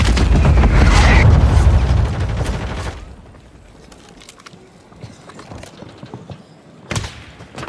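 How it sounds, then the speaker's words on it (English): A grenade explosion in Warzone, a loud heavy boom that rumbles and decays over about three seconds, followed by quieter scattered game sounds and a second, sharper bang near the end. "Grenade!"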